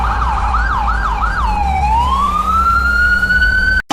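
A fire truck and an ambulance sound their sirens on return, a loud close wailing siren sweeping up and down several times before settling into a long steady rising tone that ends abruptly.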